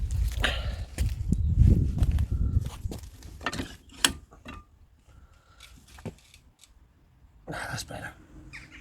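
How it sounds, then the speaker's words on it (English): Socket ratchet working loose a car hub nut during a brake disc and pad job: irregular metallic clicks, clunks and knocks close by, with louder bursts of handling noise at the start and end. "I'm going to try and undo the hub nut."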